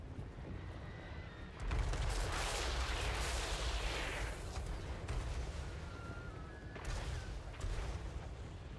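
Incendiary artillery firing at Wood Elves in Total War: Warhammer III, a continuous rumbling barrage of booms and crackling blasts over heavy low battle noise, staying loud and dense throughout.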